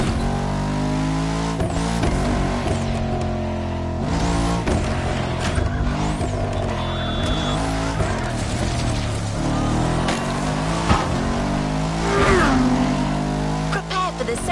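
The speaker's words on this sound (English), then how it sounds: "There's an absolute classic heading your way. A grail among collectors and Jim's greatest pride, the Mustang Boss 429." A Ford Mustang Boss 429 classic American muscle car engine revs and roars continuously at close range in a racing game, its loud rumble rising and falling throughout with game music or effects layered underneath.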